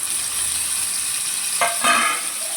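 Chopped tomato frying in oil in a pan for an avarekalu palya, a steady close sizzle with two brief louder stirring bursts partway through; no talking.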